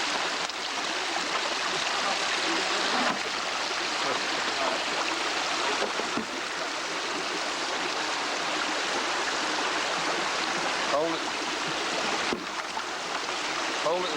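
Water poured steadily into a gold panning bag hooked over a pipe end, a loud continuous rushing splash, with someone speaking faintly beneath it.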